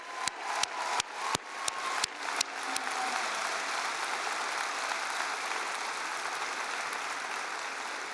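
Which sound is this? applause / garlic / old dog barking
applause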